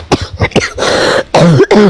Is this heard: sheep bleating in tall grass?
no